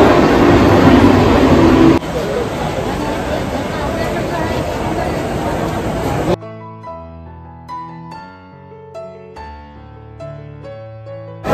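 Busy platform at Virar railway station with a train and a dense crowd: about six seconds of loud, broadband rumble and crowd noise, after which it cuts abruptly to background music.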